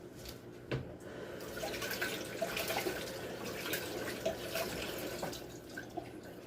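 Tap water runs into a sink while green onions are rinsed for katsu curry, a soft steady stream with irregular splashes and drips, fairly quiet and close.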